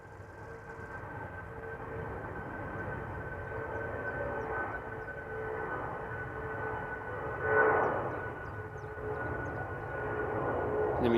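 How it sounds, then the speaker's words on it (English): A Boeing 747 takes off at Amsterdam Schiphol, heard as a steady distant engine roar with a faint whine that swells slightly partway through. "Right, 747 is on the move."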